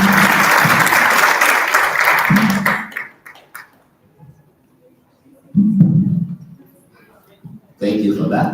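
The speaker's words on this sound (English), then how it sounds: "Let's clap for her again" An audience at a national adolescent health forum applauds a presenter, loud clapping for about three seconds that fades into a lull with brief talk, then another burst of applause returns.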